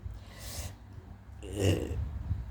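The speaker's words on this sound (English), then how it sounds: "Excuse, spiritual burp." A single low, rumbling burp rises briefly from a person around the middle of an otherwise quiet stretch, close and moderately loud.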